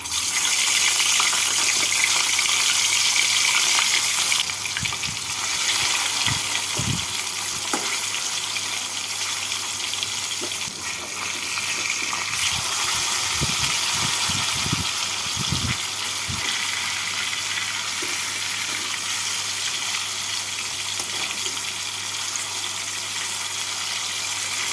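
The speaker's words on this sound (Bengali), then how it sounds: "তেলটাকে ভালো করে গরম করে নিয়ে মাছগুলোকে তেলের মধ্যে দিয়ে হালকা লাল করে উল্টে পাল্টে ভেজে নেব।" Rui fish frying in hot mustard oil in a kadai, a steady loud broadband sizzle lasting throughout, with occasional clinks and stirring knocks in the middle.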